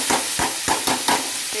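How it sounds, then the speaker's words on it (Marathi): Chopped onion sizzles as it is stirred and fried in a pan toward golden brown for a spicy chicken dish, with about five distinct scraping stir strokes spaced evenly over a steady close frying hiss. "आता हा कांदा हलवायचा, त्याला थोडं गोल्डन ब्राऊन थोडासा कलर येईपर्यंत"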